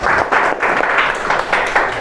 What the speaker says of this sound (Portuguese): Palmas para Brenda.